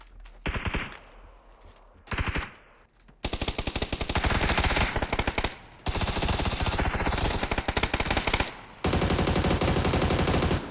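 Rapid bursts of automatic gunfire in the video game PUBG rattle loudly and almost continuously, with brief pauses between volleys and a few scattered single shots early on.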